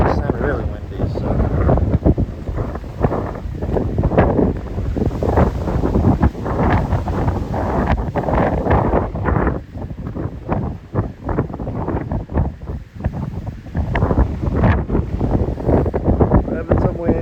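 Strong wind gusts on Cape Sable Island buffet the microphone with loud, irregular rumbling blasts throughout, and a voice speaks at times beneath the roar.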